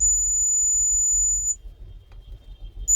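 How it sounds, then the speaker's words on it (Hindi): A laser security alarm kit's buzzer sounds a steady piercing electronic tone for about a second and a half, stops, then starts again, close and loud over a low hum. "हाथ लगाते ही ये एलईडी और बजर दोनों ऑन हो जाते हैं।"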